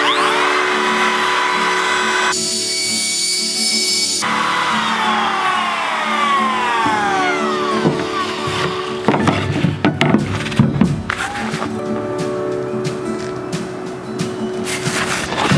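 A router cuts a chamfer on a pine test piece outdoors in cold weather: a loud, close, continuous whine with rising and falling pitch, then rougher cutting bursts as the wood is fed through.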